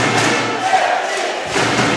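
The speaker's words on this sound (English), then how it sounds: "just listen to the crowd here" A home crowd of over 4,000 roars in the O2 Arena in Prague at a FUTNET World Championships triples final, a loud, sustained wash of cheering and chanting with no break.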